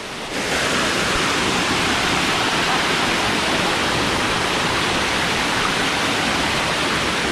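Water rushing loudly and continuously near Callao Cave in Peñablanca, Cagayan, a steady full roar like a stream or small falls with no break from start to finish.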